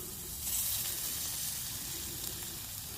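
Onions sizzling in oil in a camp pot for a backpacking spaghetti bolognese, a steady close hiss of frying that holds evenly throughout with no talk.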